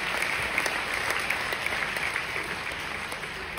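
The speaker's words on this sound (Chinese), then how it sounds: "给他们一个掌声" An audience claps steadily at a company gathering, a dense, even wash of applause throughout with no pauses or voices standing out.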